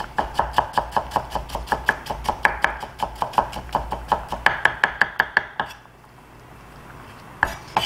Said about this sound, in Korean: 채썬 양파는 다집니다.